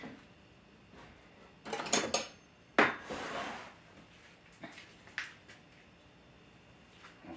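Rice being served onto a dish, with a few clinks and scrapes of a spoon against the plate and pot, brief clustered clatters separated by quiet moments.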